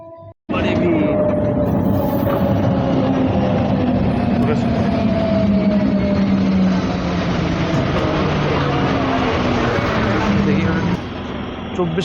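A passenger train on the Masagram–Bankura line through sal forest rumbles along steadily and loudly for the whole stretch, a continuous broad rolling drone with faint tonal lines, near and sustained.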